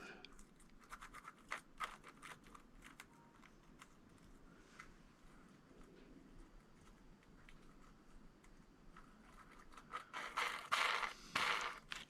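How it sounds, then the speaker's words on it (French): A worn bearing on a Kyosho MP9e electric RC buggy scratches and grinds faintly as the part is turned by hand, then gets louder and rougher toward the end. "C'est du bruit ce roulement."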